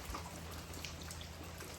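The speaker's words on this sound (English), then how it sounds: "it's been raining like crazy" Heavy rain pours down steadily in an Arkansas woodland during a bear hunt, a dense, continuous patter of drops hitting leaves and ground with no pauses and no voices.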